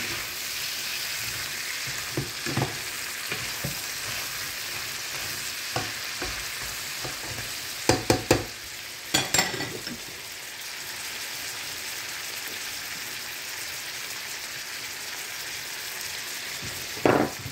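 Shrimp that were first boiled in vinegar fry and sizzle steadily in a pan, with a few louder clatters of stirring over the continuous crackle.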